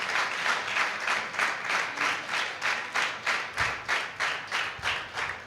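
A church congregation at Good News Church, Palakonda, claps together in a steady, rhythmic beat during a field training programme, each loud clap evenly spaced and carrying on without pause.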